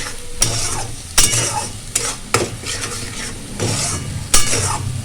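Raw peas being stirred into a frying spice mixture in a pan, with a steady sizzle broken by repeated scraping strokes and light metal clinks of the spoon.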